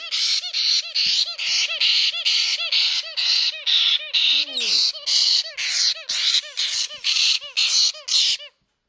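A five-week-old baby white-bellied caique squawks loudly and close up in a rapid, repeated series of harsh calls lasting several seconds, with only a brief pause midway.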